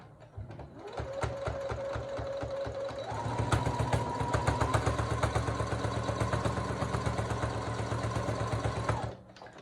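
A sewing machine stitches through fleece, starting with a short run, then speeding up into a fast, steady mechanical chatter with rapid needle clicks before stopping, close and clear with no talk.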